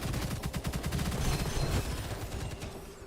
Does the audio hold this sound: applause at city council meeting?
no